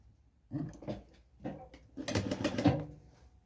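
A sewing machine stitches a blouse seam in a few short mechanical bursts, close and moderately quiet, with a brief backstitch-like pause between runs and a longer run at the end.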